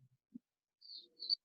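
A bird at a live animal care center gives two thin, high calls after a brief low coo-like note, each call short and fairly faint against otherwise quiet surroundings.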